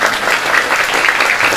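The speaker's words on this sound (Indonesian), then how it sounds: "Tepuk tangan untuk panitia" Audience at an Islamic religious gathering clapping for the organizing committee, a dense, lively burst of applause from many hands, loud and close, with no speech over it.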